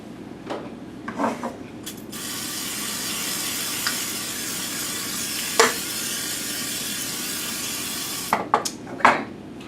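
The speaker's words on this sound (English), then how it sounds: "oil the pan with some vegetable spray" Cooking spray is sprayed into a 9-inch springform pan for a gingerbread cheesecake: a steady, loud aerosol hiss lasting about six seconds, framed by light clinks and handling of the pan before and after.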